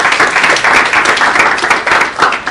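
An audience claps together after a talk, a dense, lively burst of applause that stays loud and even for a couple of seconds with no voices over it.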